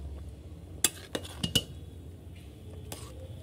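A spoon clinks and scrapes against a cooking pot as spice paste is stirred into boiling rice for chicken biryani, giving a few sharp metallic taps over a soft bubbling background.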